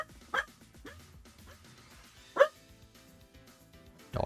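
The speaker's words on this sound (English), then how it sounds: "Dogs are barking, bro." Dogs bark in the background of the Sonic.exe Outcome Memories game, with two short yelps standing out over a steady low murmur. A third burst cuts in right at the end.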